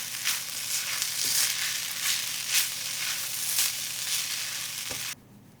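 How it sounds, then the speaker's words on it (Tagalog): Shrimp fried rice with egg and spring onions stir-fried in a hot pan, a steady loud sizzle with periodic scraping stirs, running alone without talk until it cuts off near the end. "Ihalo na natin yung itlog at dahon ng sibuyas."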